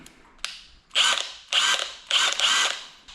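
A Milwaukee M18 cordless impact wrench, model 2962-20, set to its second speed setting, fires in a few short loud bursts of rapid hammering, each a second or so long with brief pauses between, after a couple of sharp clicks.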